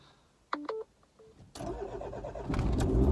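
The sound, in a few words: diesel car engine starting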